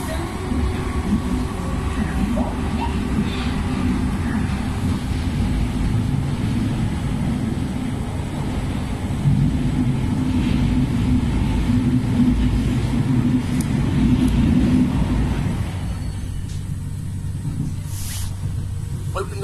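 A passenger train runs steadily with a loud, continuous low rumble and rattle; around the end the noise drops and thins as the carriage comes out of a tunnel.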